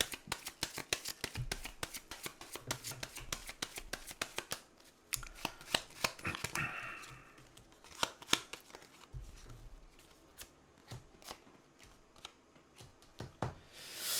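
Tarot cards are shuffled and laid out on a table at close range, giving quiet bursts of rapid riffling and flicking clicks, sharp snaps as cards are set down, and pauses between handling.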